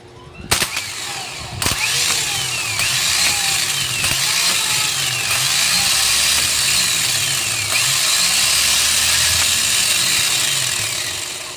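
A repaired C190 engine starter motor test-runs on a battery, giving a couple of sharp clicks before settling into a loud, steady mechanical whir that holds for about ten seconds, then tapers slightly.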